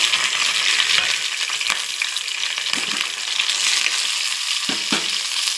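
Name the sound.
cumin, green chillies and garlic frying in oil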